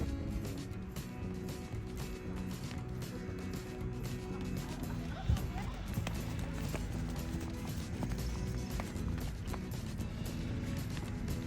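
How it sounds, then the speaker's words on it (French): Hooves of a barrel-racing horse walking slowly during a winter suppleness session, steady clip-clop steps repeating under a continuous background rumble, with some talk nearby. "Là, on est avec un cheval de barrel"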